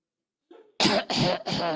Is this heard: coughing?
yes